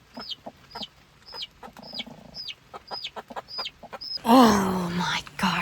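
A mother hen on a tiny-island homestead gives a regular series of short, close clucks, then a sudden louder, harsher burst of fowl noise near the end.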